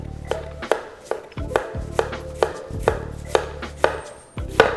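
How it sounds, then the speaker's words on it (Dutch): A knife slicing red cabbage into thin strips on a cutting board, with regular close chopping taps at a steady rhythm, loud and alone. "Om te beginnen gaan we de rode kool in fijne reepjes snijden."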